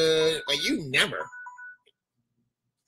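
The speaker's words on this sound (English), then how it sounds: "that's our alarm that says it's time to do this" An electronic alarm gives a few short, bright beeps right after a person finishes speaking, fairly quiet and brief before the room falls silent.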